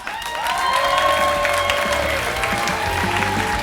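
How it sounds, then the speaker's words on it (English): Audience at a comedy class show applauds and cheers as a comedian is brought onstage, a steady dense wash of clapping with a few whoops rising over it, sustained and fairly loud throughout. "A big round of applause for Krazy Tim."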